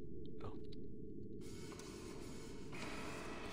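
Printer in the horror video game Clocked In runs with a loud, steady low mechanical churn that fills the clip, with a brighter whirring layer joining partway through and holding to the end.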